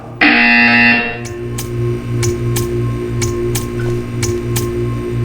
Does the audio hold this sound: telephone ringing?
no